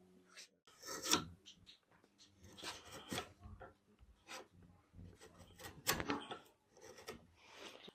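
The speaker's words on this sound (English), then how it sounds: "I'm using a chisel on this tip." A chisel scrapes and shaves a wooden tip in short, irregular rasping strokes, close by and fairly quiet, with small knocks between passes and no talk.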